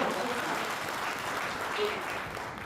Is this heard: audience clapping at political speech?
yes